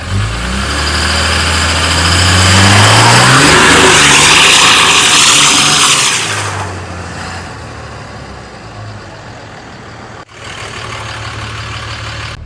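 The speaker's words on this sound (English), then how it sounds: "we're going to attempt to do some donuts with the truck" A 2005 Cummins diesel pickup truck, recently rebuilt after a wreck, revs hard while doing donuts, the engine climbing and falling in pitch before settling to a lower rumble, loud and close throughout.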